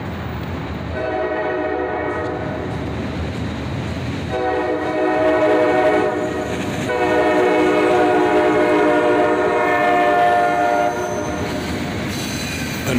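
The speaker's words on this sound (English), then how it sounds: "But finally, another train was coming." A CSX freight train led by a pair of EMD SD42 locomotives rolls past, its horn sounding in long loud blasts over a steady rumble of wheels and engines.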